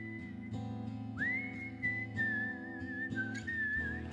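A man whistles a melody over a soft, steady keyboard chord backing, the whistle clear and sustained with slight wavering pitch glides.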